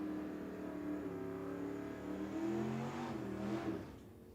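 A Chevy II drag car with a 383 engine roars at a drag strip, its engine note holding a steady, loud growl that rises and shifts in pitch as it races past.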